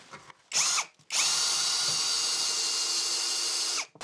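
Power drill pre-drilling into a wall for a shelf bracket on an all-metal 2x4 wall shelf: a short burst, a pause, then a loud, steady high-pitched whine sustained for about three seconds close to the microphone, with no talking.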